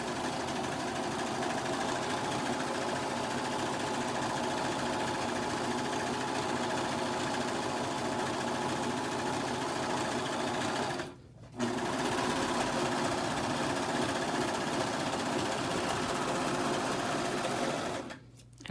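Sewing machine running steadily as it stitches the edges of a fabric pillow cover, a continuous close whirring hum with two brief pauses, no talking.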